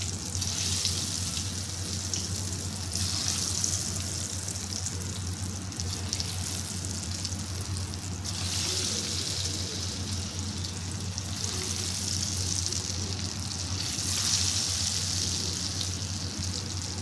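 French fries frying in hot oil, a steady, close sizzle and crackle that swells gently at intervals and carries on without talk.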